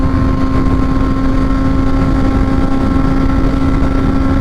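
A motorcycle engine droning steadily while riding, loud and close with a constant hum and rushing wind noise throughout, no pauses or talk.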